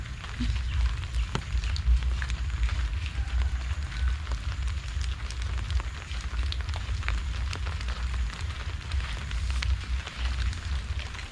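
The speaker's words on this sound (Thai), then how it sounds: "ฝนก็ยังตกมาเรื่อย ๆ นะคะ" Steady rain falling outdoors at an elephant camp in Thailand, a constant dense hiss with scattered sharper drip ticks, moderately loud and continuous without speech.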